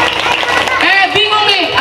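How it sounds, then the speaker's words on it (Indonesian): Children clap at an Islamic storytelling event for the Prophet's birthday, a brief burst of handclaps mixed with chattering young voices and some melodic shouting throughout. "Tepuk tangan dulu."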